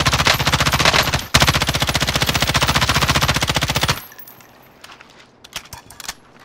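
Rapid automatic gunfire in Call of Duty: Modern Warfare rattles out in a long, loud, tightly spaced burst with a brief gap, then cuts off into quieter clinks and scattered distant pops.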